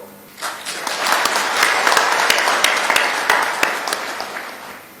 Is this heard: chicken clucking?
no